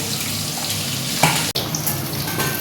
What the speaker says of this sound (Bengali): লাল করে ভেজে তুলে নেবো এই কাতলা মাছটা